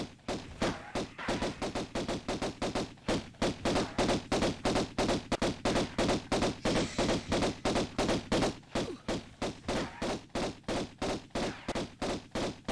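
Rapid automatic gunfire from a Tomb Raider firefight rattles on almost without pause, dense, loud bursts of shots following one another steadily across the whole stretch.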